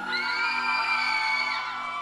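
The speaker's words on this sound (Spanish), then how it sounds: "Me gustaría escuchar el grito fuerte de todas las mujeres" A live concert crowd of women screams in one long, loud, sustained shriek, rising and holding before fading slightly, at a cumbia show in Ciudad del Este.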